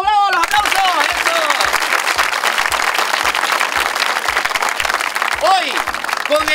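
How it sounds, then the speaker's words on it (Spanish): A studio audience applauds on a comedy game show, a loud, continuous burst of many clapping hands that runs throughout, while a voice calls out briefly at the start and again near the end. "¡Bravo, bravo! ¡Los aplausos!"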